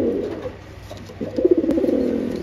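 Pakistani high-flying pigeons coo in low, rolling bursts, softer at first and then swelling louder in a steady throaty run.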